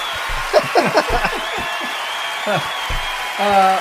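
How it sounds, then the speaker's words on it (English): A live audience claps steadily in the background at a comedy or music show while someone speaks over it with some light laughter. "We're gonna give it up for Paul Mullins, I guess"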